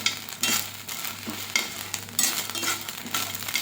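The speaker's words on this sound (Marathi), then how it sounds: "जे इथं मटर आहेत हे स्वच्छ धुवून घेतलेले, यांना थोडंसं आपल्याला फक्त भाजून घ्यायचंय" Washed green peas dry roast in a pan, a steady close sizzle broken by repeated stirring scrapes at irregular intervals, with no voices.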